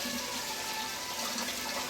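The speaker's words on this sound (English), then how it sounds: "Okay, so you drain the water." Water drains steadily from a pot of boiled potatoes into a kitchen sink, a continuous close rushing pour with no pauses.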